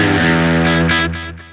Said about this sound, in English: Now it loaded up a digital delay